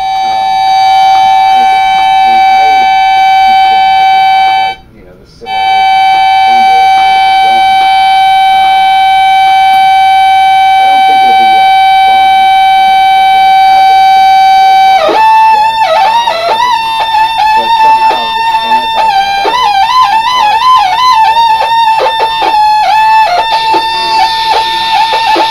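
A Voodoo Customs Pulse Emitter noise synthesizer gives a loud, steady siren-like tone that breaks off briefly. It then shifts into warbling, rapidly modulated pitch sweeps, harsh and alarm-like, with no voices.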